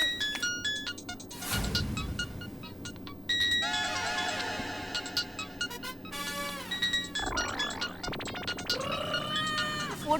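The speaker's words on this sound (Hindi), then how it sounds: "फोन किसका बज रहा है?" Mobile phone ringtone ringing, a loud electronic melody with bright sliding and warbling tones that starts and stops in bursts, with short gaps and thumps between phrases and no talking.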